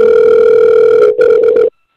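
A sheriff's office telephone sounds a loud, steady electronic tone nearby, then breaks into a few short pulses before cutting off into silence.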